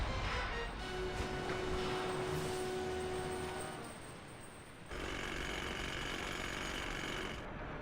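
Chisel hammering in the video game Grim Fandango Remastered, a loud, rapid, continuous mechanical rattling like a jackhammer that runs for several seconds, briefly dips, then resumes, with no voices over it.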